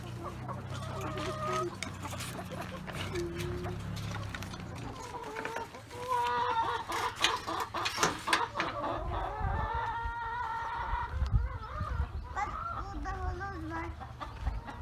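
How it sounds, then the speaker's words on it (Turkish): Chickens cluck and a rooster crows nearby, with people talking over the birds, and the clucking grows busier and louder in the second half. "Bunlar güzel tavuklar evet."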